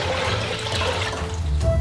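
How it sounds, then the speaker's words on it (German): Water pours steadily into a steamer pot at a Korean street food stall, a continuous close gushing rush that stays loud throughout with no talking. "Wir füllen ihn mit Wasser."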